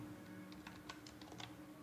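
Computer keyboard typing Java code, a quick burst of soft, close key taps in an irregular run over a steady electrical hum, quiet with no talking.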